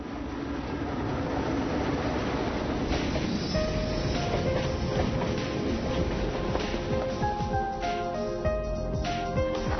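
A train rumbles past close by in Xinjiang, China, a loud continuous roll of wheels with metallic squeals and tonal whines rising over the clatter.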